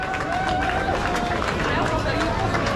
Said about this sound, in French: vos applaudissements pour le podium.